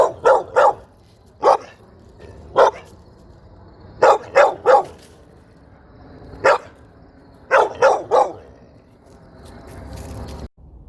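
Dogs bark loudly and close by in short bursts of one to three barks with brief quiet gaps between them. There is no talk.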